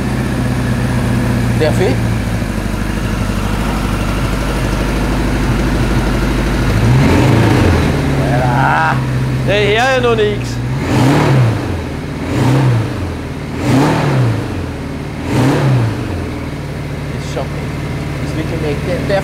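A 1974 Kawasaki Z900 motorcycle engine idles steadily, then rises in a run of about five sharp revs to a rising-and-falling throttle blip, loud and close, with people talking over it.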